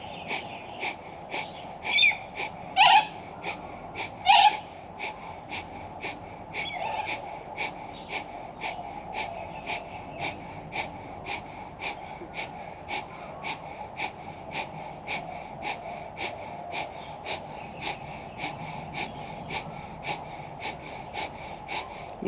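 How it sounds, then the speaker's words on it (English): Rapid rhythmic breath of fire during a Kundalini yoga kriya, steady forceful nasal exhalations pulsing about twice a second throughout, with a couple of louder sharp breaths early on. "Nice strong breathing. Keep that breath of fire, creating your own fire."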